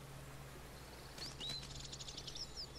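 Small birds chirp and tweet in a brief, bright flurry outdoors, faint and fairly distant over a low steady hum, with no talk.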